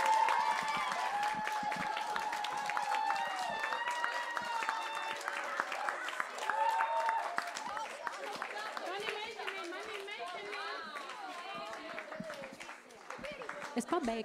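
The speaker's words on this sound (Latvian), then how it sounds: "Aplausi māksliniekiem, balvas māksliniekiem!" An audience applauds the performers at a children's musical concert in Jūrmala, Latvia, ahead of the national holiday. Steady, dense clapping fills the whole stretch amid crowd chatter and lingering music.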